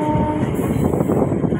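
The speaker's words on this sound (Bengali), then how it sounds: "তোমরা দেখছো যে ট্রেনটা পাশের দিয়ে গেল, এটা মেট্রো রেল।" A metro train passes close by in a loud, steady rumble of rolling wheels and rushing air, heard from aboard another train travelling near Dum Dum toward Budge Budge, with no talking.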